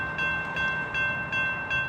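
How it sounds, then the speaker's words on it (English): A freight train rolls through a Sacramento neighborhood, giving a steady rumble with faint rhythmic clacking and a high metallic whine, heard alone at a moderate distance. "A freight train traveling through this area of Sacramento is nothing new."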